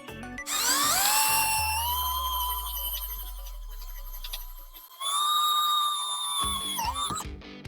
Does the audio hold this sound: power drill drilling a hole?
yes